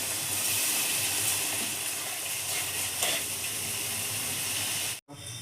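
Ginger garlic paste hits a hot pan while cooking a jackfruit and prawn curry, giving a steady, close, hissing sizzle that continues throughout and briefly cuts out near the end.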